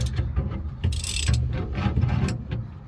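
A steering wheel puller being fitted and worked on a 1965 Ford F100 steering column, giving close, rapid metallic clicking and ratcheting with a brief scraping rasp, fairly loud with no talking.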